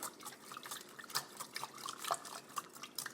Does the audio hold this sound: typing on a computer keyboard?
no